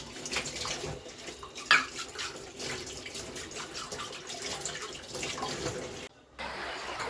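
A kitchen tap runs steadily while cups are washed, a continuous splashing hiss with small clinks and surges, briefly cutting out near the end before the flow resumes.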